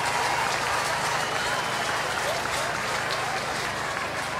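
Spectators at an AFLW women's Australian football match between Adelaide and GWS applaud a Giants goal, steady crowd clapping and cheering throughout, with a commentator's voice talking over it.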